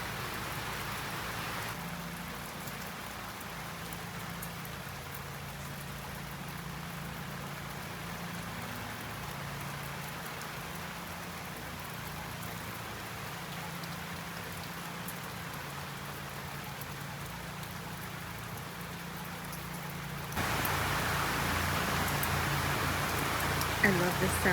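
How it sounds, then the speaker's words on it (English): Steady rain falls outdoors, a constant soft hiss and patter that continues unbroken and grows noticeably louder toward the end. "Well, here's the rain."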